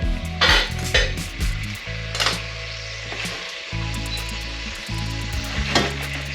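Ñoras (dried peppers) frying with garlic in a pan for fish rice, a steady close sizzle with scraping stirs and occasional utensil clinks against the pan.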